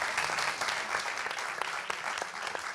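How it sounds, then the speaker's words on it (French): Steady applause from an audience at a pitch competition award ceremony, many hands clapping continuously at a moderate distance, with no voices standing out. "vous pouvez continuer à l'applaudir"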